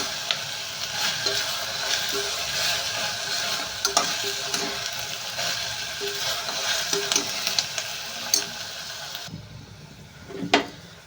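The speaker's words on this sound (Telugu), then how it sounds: "ఉల్లిపల్లి అనేది అయితే ఫ్రై అవుతున్నాయి కదండి" Onions for a potato curry fry in a pan with a steady, fairly loud sizzle and repeated stirring scrapes and clicks. Near the end the hiss drops away and a sharp clatter stands out.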